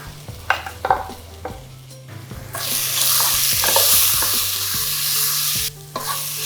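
Onion and potato pulp is stirred in a hot pan for stuffed potatoes with lamb. A few scraping knocks come first, then a loud, steady sizzle swells up and runs close by with no talking.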